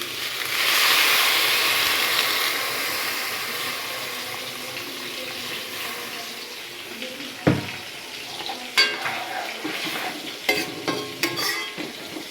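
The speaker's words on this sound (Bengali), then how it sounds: "ভালো করে ভাজা ভাজা করে নিয়ে একটু জল দিয়ে দেবো।" Food frying in a pan while being stirred, with a steady sizzle that later gives way to clattering spoon strikes and splashes as a little water is added for a leafy-greens curry with taro leaves.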